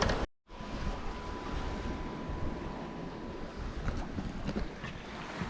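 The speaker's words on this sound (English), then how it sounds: "we're just ghosting along for the next 2 miles before we reach Gran Tarajal" A sailboat ghosts along in light wind off the Canary Islands, with soft water wash and low wind rumble heard steadily at moderate loudness and no talk.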